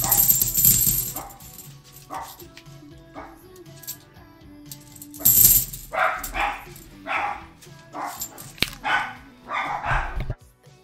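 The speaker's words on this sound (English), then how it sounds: "Sorry about the dogs." Dogs bark in repeated bursts across a room, alternating with quieter gaps, with light metallic clinks of silver coins being sorted nearby.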